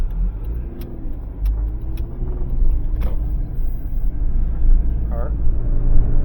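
A 2012 Subaru Outback at about 50 with a loud worn wheel hub, giving a steady low droning rumble that grows slightly louder as the car drives, with a voice talking over it.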